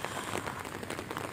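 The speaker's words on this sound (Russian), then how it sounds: "А дождь, девочки, не прекращается." Steady rain patters densely on a surface nearby, a continuous soft hiss of drops with no voices.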